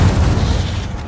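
The Incendio fire spell is cast in Hogwarts Legacy, a single loud, deep burst with a rumbling boom that fades over about a second.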